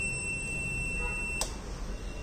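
A buzzer on an Arduino-based electric vehicle battery management and fire protection circuit sounds as a steady high-pitched electronic tone, fairly faint over background hiss, cutting off partway through with a brief click.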